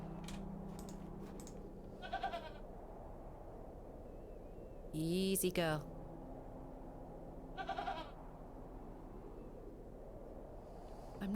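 A goat in The Excavation of Hob's Barrow bleats in several short, wavering calls, with a louder, longer bleat in the middle, all close and clear over quiet ambience. A brief spoken phrase comes in between the calls.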